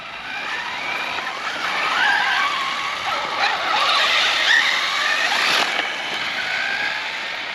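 Arrma TLR Typon and 6s Typon RC cars race around a track with a steady high-pitched electric motor whine, swelling and fading as they pass, with brief tire scrubs and skids throughout.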